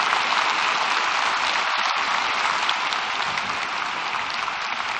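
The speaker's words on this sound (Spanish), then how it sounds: "Démosle un aplauso" A church congregation gives sustained applause to an honored guest, a steady, full wash of clapping from a large crowd that carries on without a break.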